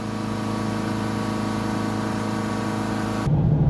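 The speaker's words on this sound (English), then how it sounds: "So now just taking the vehicle on a test drive, and we can see that the boost is back, nice and working. Picking up speed there, no problem." Steady drone of a Land Rover Freelander 2.2 diesel engine on a test drive, a constant cabin hum and road noise that shifts in tone near the end.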